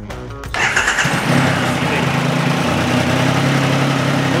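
A Triumph Rocket 3R Storm motorcycle with a 2.5-litre engine cranks briefly, fires up and settles into a deep, steady idle, loud and close, with no talking.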